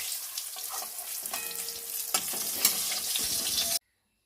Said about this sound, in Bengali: গরম মশলা আমি সাদা জিরে দিয়ে দিয়েছি ফোড়নে গরম মশলা দিয়ে দিলাম